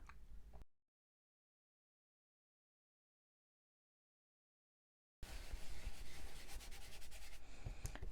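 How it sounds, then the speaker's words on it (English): An embossing buddy powder pad is rubbed over a paper surface, giving two short bursts of soft, close scratchy rubbing separated by several seconds of silence. "I'm just using my embossing buddy to prep the surface"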